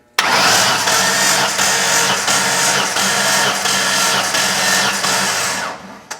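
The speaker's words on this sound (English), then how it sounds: "So we can just crank the engine over" A Ford Mustang SN95 engine cranks over steadily without firing, the starter's rhythmic chugging loud and close for about six seconds before cutting off.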